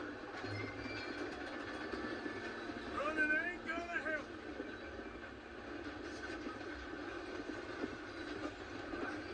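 A continuous rumbling video game train runs in the background with a brief squeal of wheels, while a voice speaks over it.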